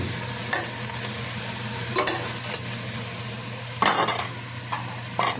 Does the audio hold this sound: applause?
no